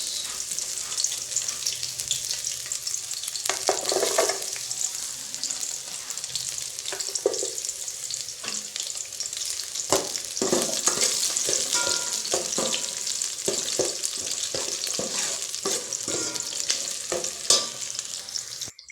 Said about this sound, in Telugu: ఫస్ట్ ఆయిల్ ఆనియన్స్ వేసుకుందాం వేసుకుందాం ఆనియన్స్